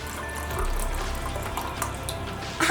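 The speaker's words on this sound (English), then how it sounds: "So I'm going to have you pour a cup into this measuring cup." Vegetable stock is poured into a measuring cup in a kitchen, making a continuous close liquid stream that gurgles slightly for about two seconds and ends with a short clink. There is no talking.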